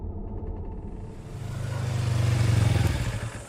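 A motorcycle on a village road at the edge of a forest rumbles past, its engine swelling louder and closer for a few seconds before easing off and settling as it comes to a stop.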